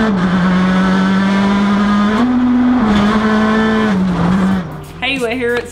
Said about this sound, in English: We're here in the Citroen R5, which has been fantastic.